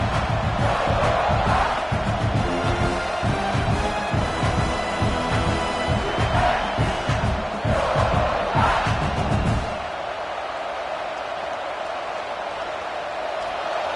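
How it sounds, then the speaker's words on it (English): A home crowd in a college football video game roars and cheers loudly at full volume, with whoops and shouts rising in waves, then drops to a quieter steady crowd murmur for the last few seconds. "this home crowd is fired up and ready to make a difference today"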